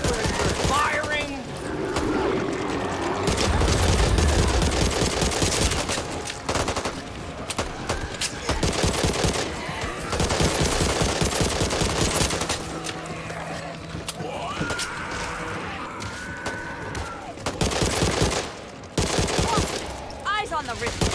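Rapid bursts of gunfire from a zombie shooter video game, Back 4 Blood, played on PS5, fill nearly the whole stretch, loud and dense with overlapping shots and brief gaps, under occasional shouted talk.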